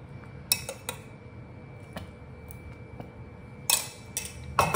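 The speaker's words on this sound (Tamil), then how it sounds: "இப்போ தான் வந்து கொஞ்சம் கைவிடாமல் கிளறணும், இல்லாட்டி அடி பிடிச்சிடும்." A spoon scrapes and clinks against a pan while almond halwa with ghee is stirred, giving a few sharp metallic taps and scrapes over a low background rumble, close by.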